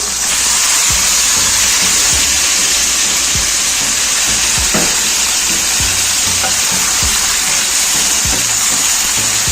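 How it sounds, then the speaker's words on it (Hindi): Chicken frying with onion and tomato in a karahi for a creamy Mughlai chicken malai dish, giving a loud, steady sizzle with intermittent scraping stirs throughout, no talking. "अब चिकन की हमने बहुत अच्छे से भुनाई करनी है प्याज टमाटर के साथ।"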